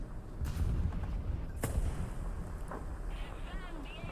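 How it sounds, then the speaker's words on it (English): Artillery fire in War Thunder: a few distant, muffled booms and one sharper blast land amid a low rumbling background, with a voice talking over part of it. "they're calling in artillery"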